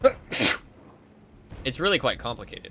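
A single sharp human sneeze right at the start, close and loud, followed after a short pause by a person talking.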